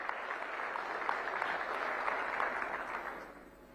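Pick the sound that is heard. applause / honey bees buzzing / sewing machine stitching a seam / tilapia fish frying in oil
applause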